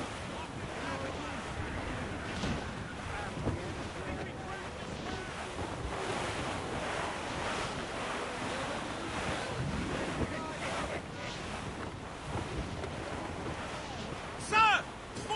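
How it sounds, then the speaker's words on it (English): Rough sea squall aboard a sailing ship: steady roaring wind and crashing surf fill the whole stretch, loud and continuous, with shouted voices of the crew breaking through near the end. "It's quite a rough squall, Captain."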